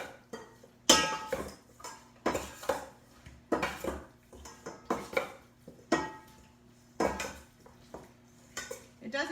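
Tongs or a big spoon move chicken around a pot for pollo caldero. A series of distinct metallic clanks and scrapes comes at irregular intervals, close and moderately quiet, with no talking.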